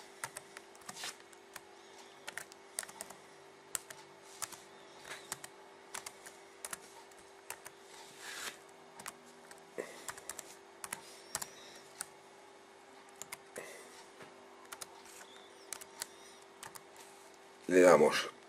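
Fingers tap out a password on a computer keyboard in irregular bursts of light, close clicks, with a steady electrical hum beneath and a louder clatter near the end.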